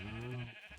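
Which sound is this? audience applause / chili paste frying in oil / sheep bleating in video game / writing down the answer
sheep bleating in video game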